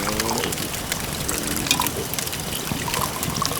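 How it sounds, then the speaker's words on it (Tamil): Liquor streams from a bottle into a glass, a continuous trickling pour with a brief bubbly gurgle early on, close and clear over a busy background of voices and movement. "ஏய் அவளுக்கு ஒரு கிளாஸ் ஊத்துறா."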